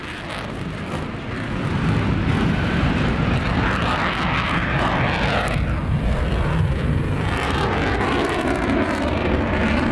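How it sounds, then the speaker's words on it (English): A Eurofighter Typhoon jet lights its afterburners, its engine roar swelling after a second or two into a loud, continuous, rumbling blast that holds steady to the end, with no voices. "Just when the Typhoon tears away and it just puts his afterburners on"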